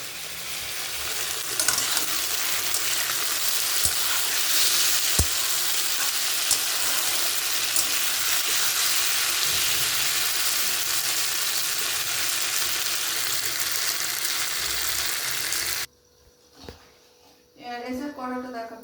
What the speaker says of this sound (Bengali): আর এই দেখো মাছের তেল রান্না হবে।